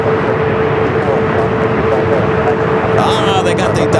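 An American Airlines Airbus A321 taking off at Phoenix Sky Harbor, a loud steady jet roar with a sustained engine whine and rising turbine tones near the end.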